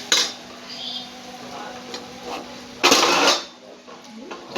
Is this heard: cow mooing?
no